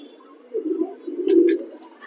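Pigeons, including one of the Lalsara Chennai breed, coo in two soft, low rolling bursts close by, with faint high chirps over a quiet background.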